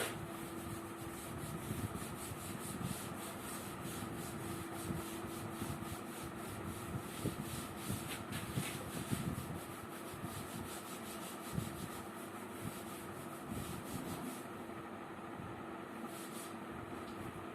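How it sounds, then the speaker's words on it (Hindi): Writing rubbed off a board during a chemistry lesson: a continuous, even scrubbing and rubbing sound that runs steadily throughout, moderately faint, without speech. "फिलहाल मैं इतना ऊपर रब कर देता हूँ पार्ट"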